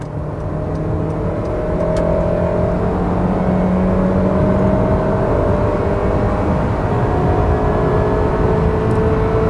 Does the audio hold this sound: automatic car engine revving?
yes